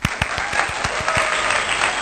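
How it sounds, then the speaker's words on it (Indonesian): A short burst of hand clapping: a few distinct, crisp claps at first, then thickening into a dense patter of applause that lasts about two seconds. "Tepuk tangan lagi buat diri gue sendiri"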